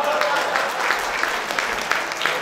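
Audience applause at a Halal bi Halal gathering of the Brawijaya University Faculty of Engineering family, a steady wash of clapping with voices mixed in.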